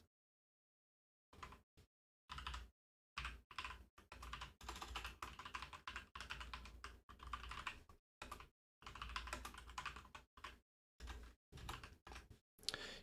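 Typing on a computer keyboard in short bursts of quick, close clicks separated by silent pauses.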